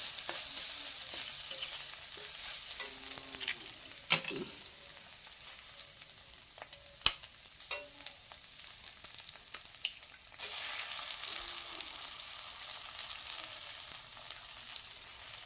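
Eggs frying in a pan for breakfast in a home kitchen, a soft steady sizzle with occasional clinks and stirring knocks of a utensil, quiet and close, with no talking.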